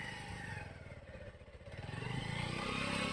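A motorcycle engine revs on an off-road ride while a beginner learns clutch and throttle control, dipping at first, then building to a louder, rising drone with some clatter.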